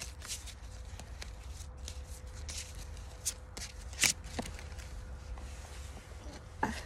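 Oracle cards being shuffled by hand, close soft papery riffles and slaps in uneven bursts with a few sharper card snaps, no speech.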